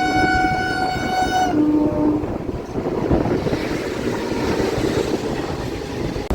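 A goods train passes at a station, opening with a long multi-tone horn blast, then a loud continuous rumble and clatter of wagons rolling by.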